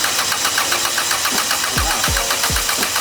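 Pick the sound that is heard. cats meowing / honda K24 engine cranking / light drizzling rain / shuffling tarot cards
honda K24 engine cranking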